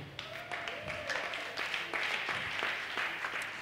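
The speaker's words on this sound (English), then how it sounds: "Can we give God a big clap of joy?" A church congregation at an evening service claps with scattered, uneven claps and some cheering voices, moderately distant and fairly faint.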